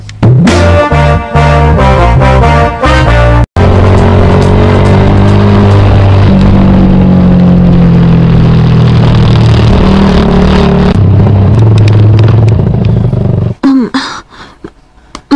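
A motorcycle engine fires up with a rapid chugging idle, then revs in smooth rising and falling swells. It is loud and close, cuts out briefly early on, and ends in clattering.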